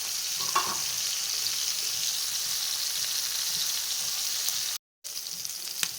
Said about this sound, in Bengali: তো এই যে আমি ভাজি বসিয়ে দিয়েছি